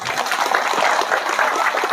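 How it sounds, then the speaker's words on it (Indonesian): An audience at a political talk claps in a dense, even patter for about two seconds, with no voices over it. "Tepuk tangan."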